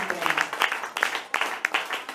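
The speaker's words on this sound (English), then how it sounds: "Please give us these guys such a nice round of applause." A small live-music crowd at a blues band's show gives scattered, uneven clapping for the musicians, with brief talk mixed in over the short burst.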